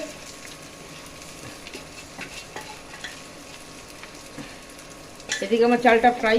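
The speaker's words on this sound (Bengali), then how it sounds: "এদিকে আমার চালটা ফ্রাই হচ্ছে।" Gobindobhog rice frying in a pan, a steady faint sizzle with scraping stirs, then a louder burst of crackling near the end.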